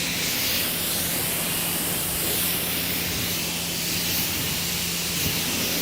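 A steady, loud hiss of water spray rinses a car during detailing with household products, continuous and close without a break.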